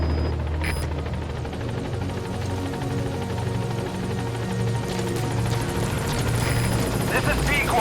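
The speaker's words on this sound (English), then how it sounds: "Support helicopter has arrived." A support helicopter arrives in the video game Metal Gear Solid 5, its steady rotor drone and low hum running loud and continuous throughout, with a voice speaking over it.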